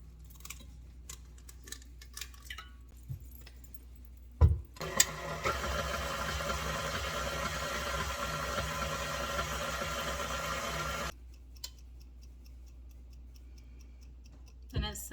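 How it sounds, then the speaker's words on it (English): A stand mixer running its whisk attachment as it beats eggs in a bowl, making a steady whirring and rattling hum for several seconds between quieter stretches. "in a bowl of a stand mixer, add eggs. And while you're using the whisk attachment, you'll let it beat them for about 1 minute"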